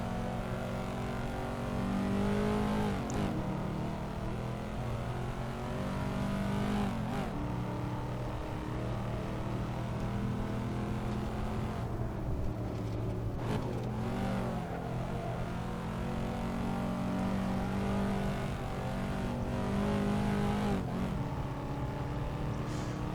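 The simulated V8 of a Corvette C5 Z06 mod in Assetto Corsa lapping the Nordschleife drones loudly and continuously, revving up through the gears with brief dips at each shift and lift, no talking over it.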